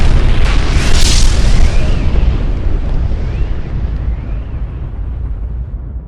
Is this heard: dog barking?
no